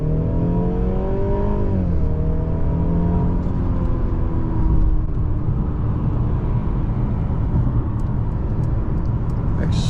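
2023 Mercedes-Benz C300 turbo engine under full-pedal acceleration on a highway, heard from inside the car as a loud, rising engine drone that shifts once early on and then continues over heavy road noise, no talking.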